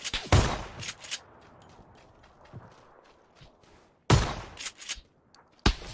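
Gunfire in the battle royale video game PUBG: sharp, loud shots crack out at the start, again a few seconds later and at the end, with softer footstep-like thuds between.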